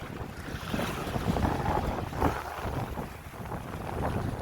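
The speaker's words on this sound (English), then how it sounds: "Wind's very strong, as you can hear, I'm sure" Strong wind on a seaside rock buffets the microphone in heavy, gusting roars, with surf and waves washing beneath in a constant loud blustery wash.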